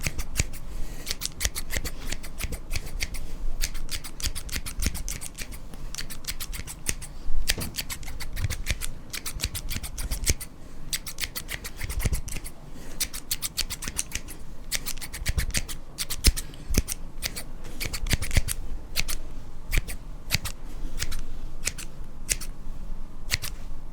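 Barbershop scissors snip rapidly and continuously right up close, a steady stream of crisp metallic cuts with only brief irregular pauses and no talking.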